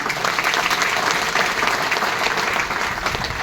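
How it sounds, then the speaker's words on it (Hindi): An audience claps loudly and steadily in a dense, continuous burst of applause, filling the whole stretch with no break. "एक बार जोरदार तालियां।"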